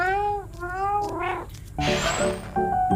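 Cat meowing in the VR game I Am Cat on Meta Quest 3: several loud, drawn-out meows and caterwauls follow one another closely, with no talking over them.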